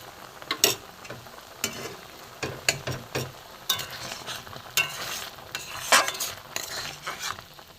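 Duck egg korma gravy with milk and garam masala simmers in a pan while a spoon stirs it, giving soft bubbling and intermittent scraping and clinking strokes, close and moderately loud, with no talking.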